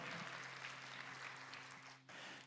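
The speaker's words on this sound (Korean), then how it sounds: "우리의 죄를 대신해 죽으시고 부활하신 예수님께 찬양과 영광의 박수 올려드리겠습니다." Congregation applause during a Sunday young adults' church service, broad continuous clapping at a moderate distance, with a low sustained tone beneath it and a brief dip near the end.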